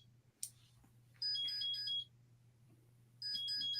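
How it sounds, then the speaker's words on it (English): A small running-watch alarm beeps in a rapid melodic pattern, two separate bursts with a pause between, faint and thin against quiet background. "His running alarm is going off."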